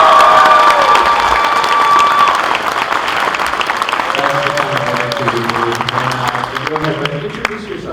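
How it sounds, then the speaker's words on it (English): Applause and cheering from a convention audience at a Hatchet horror film Q&A: loud clapping with shouts and whoops at the start, then tapering slightly while a few voices call out and clapping continues underneath. "can we please get a round of applause"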